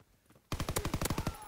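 Rapid automatic SMG fire in a video game, a loud close burst of about a dozen evenly spaced shots after a quiet lead-in, with no talking.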